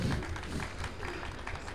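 Dense crowd applause at a live video game speedrunning event, steady clapping from many hands throughout, fairly close and unbroken.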